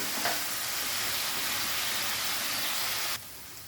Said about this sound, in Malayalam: എന്നിട്ട് നമുക്ക് ഈ പനീർ ഇട്ട് കൊടുക്കാം